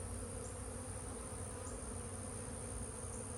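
Honey bees swarming around a nuc hanging on a tree make a dense, steady buzzing drone, faint but continuous, with no voices.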